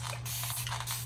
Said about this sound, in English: I'm gonna go ahead and spray the roots